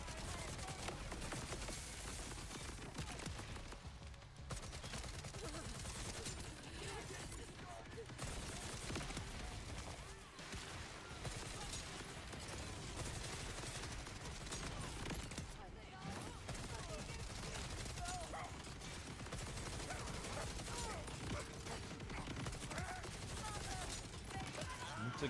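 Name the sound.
SMG gunfire in a Borderlands video game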